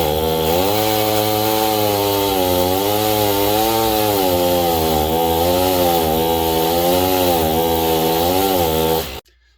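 Echo CS-440 chainsaw with carburetor issues running loud and close, its buzzing engine note wavering and surging unevenly as it cuts, then cutting off abruptly at the end.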